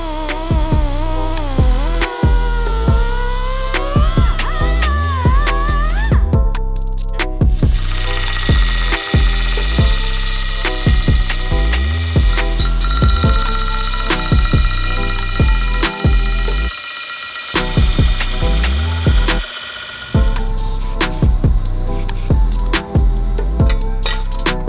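A power tool grinds metal tabs off a 2017 intake manifold being fitted to a Subaru BRZ, a loud, close, whining rasp in bursts that shift in pitch, broken by short pauses.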